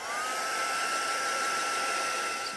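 A hair dryer blows steadily and fairly loud, drying a wine-themed journaling card with a constant whooshing airflow and a thin motor whine, with no talking.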